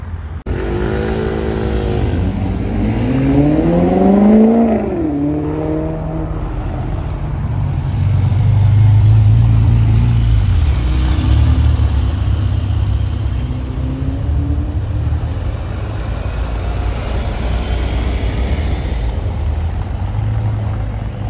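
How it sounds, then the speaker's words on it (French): A classic Mercedes 190 SL drives by at a Sunday car gathering in Vauban, its engine a steady, moderately loud drone that swells and fades, with another engine revving briefly early on. "Bon, c'est une voiture qu'on voit de moins en moins mais qui est sublime. Mercedes 190 SL."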